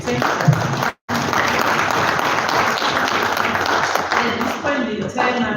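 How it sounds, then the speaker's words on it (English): The audience at a session on a climate change management bill gives the panel a round of applause, loud and close, a dense sustained clapping broken by one brief dropout, with murmuring voices mixed in toward the end. "We can give them a round of applause as they take."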